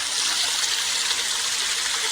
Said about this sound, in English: I love the sound of running water though.